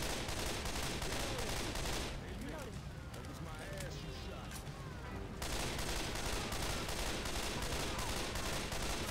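Rapid burst-rifle gunfire in Left 4 Dead 2, dense and continuous, loud and near, briefly dropping to quieter scraping and clatter mid-clip before the shooting resumes at full intensity.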